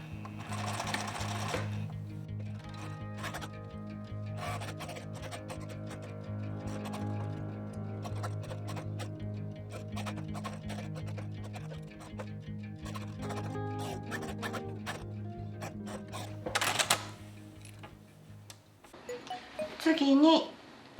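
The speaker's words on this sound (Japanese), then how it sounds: "ポケット周りを7ミリで縫います。" Sewing machine stitching a 7 mm seam around a pocket on a reversible poncho-style garment, a steady mechanical whir running continuously for most of the clip with a few brief clicks and a pause near the end.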